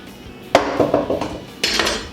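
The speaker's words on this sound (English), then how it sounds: "Once you've got your avocado in half and pitted" A ripe avocado halved and pitted with a knife on a board, heard as a sharp knock followed by several quick clicking taps and a final scraping clatter, close and with no talking.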